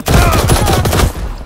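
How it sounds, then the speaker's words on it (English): Rapid burst of video game gunfire from security guards, a dense loud volley of shots lasting about a second before cutting off. "Security details currently shooting at me."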